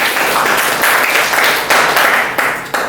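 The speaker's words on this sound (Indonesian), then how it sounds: "Tepuk tangan untuk teman-teman semuanya." Audience applause at a success-story sharing event, a loud, dense wash of clapping hands that continues throughout.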